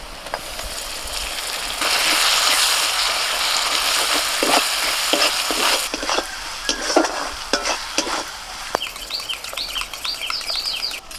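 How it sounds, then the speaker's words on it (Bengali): Ginger garlic paste hits half-fried onions in a pan for Kashmiri chicken masala, giving a steady close sizzle with stirring scrapes, and a few bird chirps sound faintly in the background. "এখন আদা রসুন বাটাটা দিয়ে দিচ্ছি"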